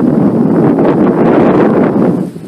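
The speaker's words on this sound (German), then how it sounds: "weil es ist einfach so mega windig, Leute, da hört man überhaupt nichts" Strong wind buffets the microphone in a loud, continuous roar beside a railway line in Rosenbach, easing slightly at the very end.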